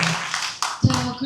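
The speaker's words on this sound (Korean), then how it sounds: "박수 한번." An audience at a lawmaker's constituency report meeting gives a brief round of clapping: a few close, sharp claps mixed with a speaking voice.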